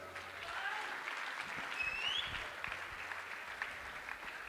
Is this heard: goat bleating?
no